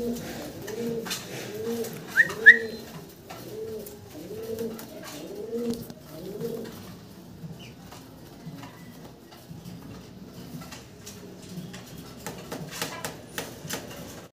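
Satinette pigeons coo in a run of soft, rounded, repeated calls close by during the first seconds, then fade to faint rustling, small clicks and quiet background noise.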